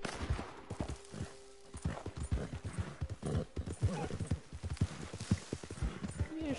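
A horse in Red Dead Redemption 2 gallops with rapid rhythmic hoofbeats, close and fairly loud, amid game sounds.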